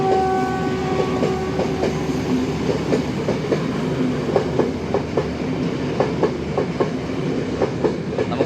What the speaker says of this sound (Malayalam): നമ്മളിപ്പോൾ കണ്ടുകൊണ്ടിരിക്കുന്നതാണ് ശ്രീലങ്കയിലെ ട്രെയിൻ